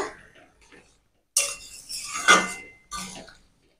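Fried bitter gourd pieces tipped into a pot of boiled potatoes: after a quiet moment, a few close, bright clattering and clinking bursts as the pieces and spoon hit the pot.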